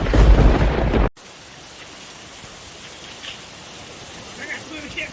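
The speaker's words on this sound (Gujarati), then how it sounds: "વરસાદ આવી ગયો છે" Rain falling around a homemade tree house: after a brief loud burst of sound, a steady, soft hiss of rainfall continues evenly, with faint drops and small accents scattered through it.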